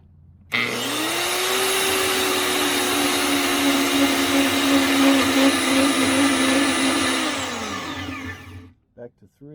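VEVOR portable bandsaw running at speed 4, a steady loud motor whine with a high blade tone that holds for about eight seconds, then winds down and stops.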